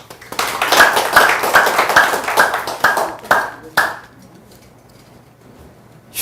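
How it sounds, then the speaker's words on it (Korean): An audience at a lecture claps to welcome a speaker, a short run of crisp, fairly rhythmic hand claps in a room that ends abruptly and leaves quiet room tone. "자 박수로 환영하겠습니다."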